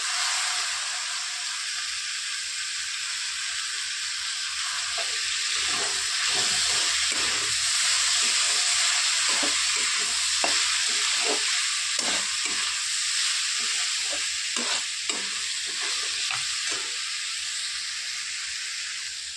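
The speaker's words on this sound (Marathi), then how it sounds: "आता टाकत आहोत आपण वांगे, ते पण बारीक करून घेतले।" Finely chopped brinjal stir-fries in a hot pan for a dry potato-brinjal dish, a loud, continuous sizzle broken by repeated scraping and tapping of a spatula through the middle stretch.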